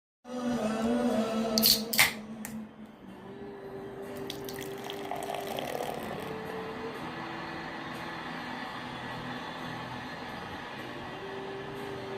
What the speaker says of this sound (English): pouring ale into a glass